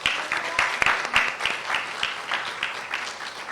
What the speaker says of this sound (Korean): 여러분 크게 축복과 또 격려의 박수 쳐주시기를 바랍니다